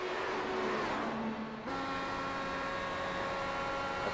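An on-board race car engine held in sixth gear at low RPM drones steadily and loudly, its pitch shifting once partway through.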